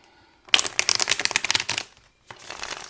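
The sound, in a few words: tarot cards being shuffled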